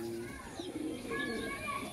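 A village pigeon coos quietly among other birds chirping, under low background noise, with the sound staying faint and steady throughout.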